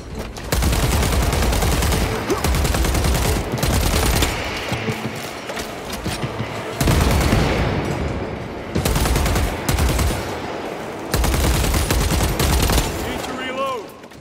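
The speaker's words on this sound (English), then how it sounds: "unleashing a terrifying hail as it quickly spins up is one of the most satisfying feelings" Rapid weapon fire in Warhammer 40,000: Space Marine 2, a spinning heavy gun unleashing long loud sustained bursts with short pauses between volleys, layered with mechanical whirring and clanking.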